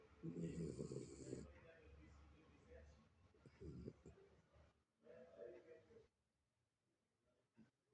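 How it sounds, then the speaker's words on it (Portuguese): Snoring: several slow, rasping snores, fairly faint, separated by short quiet pauses. "E agora, ó, não tem nem 2 minutos, já começa a roncar."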